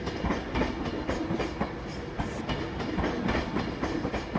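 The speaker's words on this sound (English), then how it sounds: "In comes the Pendolino for Glasgow Central, 390156." Class 390 Pendolino electric train pulling into a station for Glasgow Central, wheels clattering over rail joints in a quick, regular clickety-clack, near and continuous.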